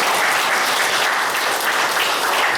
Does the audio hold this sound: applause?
yes